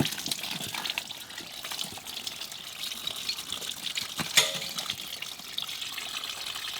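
Water gushes and trickles steadily out of a flooded McLaren P1 engine during a rebuild, a constant faint splashing with a few small drips and knocks.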